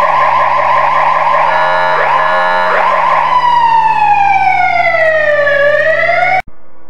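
Emergency vehicle sirens from a Polish city driving game, ambulance, fire engine and police wails rising and falling together, loud and steady, then cutting off abruptly near the end.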